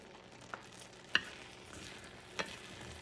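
Pearl couscous cooking in a cast iron pan, a quiet low sizzle under a few soft clicks and scrapes of stirring, spaced irregularly, with no one talking.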